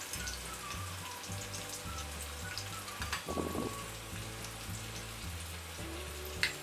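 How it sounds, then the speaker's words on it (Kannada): Beans deep frying in hot oil make a steady, fine crackling sizzle, with a low droning hum under it and a brief louder burst partway through. "ಈಗ ನಾನು ಬೀನ್ಸನ್ನು ಹಾಕಿ ಡೀಪ್ ಫ್ರೈ ಮಾಡಿಕೊಳ್ಳುತ್ತೇನೆ"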